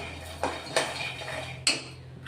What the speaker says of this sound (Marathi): चांगले लालसर होईपर्यंत आपण आता शेंगदाणे भाजून घेणार आहेत।